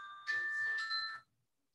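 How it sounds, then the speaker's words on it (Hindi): Phone ringtone playing a bright electronic chime of steady sustained tones for about one second, fairly loud and alone, then cutting off to silence. "फोन आ गया था"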